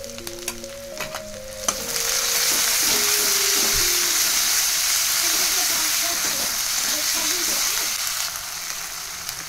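Ginger and garlic paste hitting browned onions in hot oil, a sharp burst as it lands, then a loud, continuous close sizzle with stirring scrapes and a faint voice briefly at the start.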